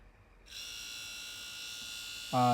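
A 12V 775 copper-wound DC motor spins up from silence and runs freely with no load attached, giving a steady high-pitched whine that holds for about two seconds before a louder, lower buzz cuts in at the end.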